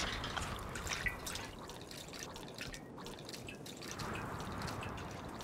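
Gasoline refuelling a car in the Mad Max video game, a faint, continuous trickling and dripping of liquid being poured, soft and steady with no voices.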